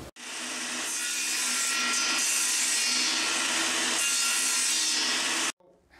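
A hand saw cuts through the knob of a wooden axe handle in a single loud, close, continuous rasping stroke sequence lasting several seconds, then stops abruptly.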